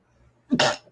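A single sharp sneeze bursts out suddenly after near silence, loud and close, followed by a faint breathy trailing sound.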